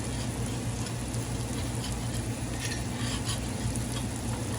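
Flour cooks in butter for a golden roux meant for creamy shrimp pasta, giving a steady close sizzle and crackle with faint stirring scrapes and no voices.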